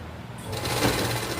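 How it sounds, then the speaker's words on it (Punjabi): Sewing machine running steadily as it stitches a lace border strip onto a suit fabric, a continuous close whirring that starts softer and grows fuller partway through, with no talk. "ਤੁਸੀਂ ਲੈਸ ਨੂੰ ਇਹਦੇ ਵਿੱਚ ਰੱਖ ਕੇ ਸਲਾਈ ਲਗਾ ਲੈਣੀ ਹੈ"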